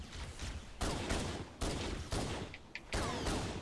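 Gunfire in Halo: Combat Evolved, rapid weapon bursts in several loud blasts of a few tenths of a second each, separated by brief lulls, with no talking.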